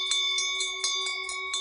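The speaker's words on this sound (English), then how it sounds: "A bell rings." A bell rings repeatedly in a steady series of bright metallic strikes, about seven in quick succession, each with a sustained ringing tone that carries through, heard alone at moderate loudness as a doorbell in a stage play about Cinderella.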